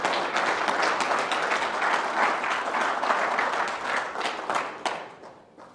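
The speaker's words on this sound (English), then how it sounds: "Let's give Sister Sharice a round of applause" An audience at a church service claps in a lively, dense round of applause, strong and sustained before tapering off toward the end.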